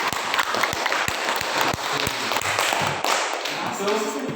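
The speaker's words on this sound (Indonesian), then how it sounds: "Tepuk tangan untuk kelompok." A classroom group claps in uneven, sparse beats, each clap sharp and distinct, with murmuring voices and thumps underneath and a short quieter stretch near the end.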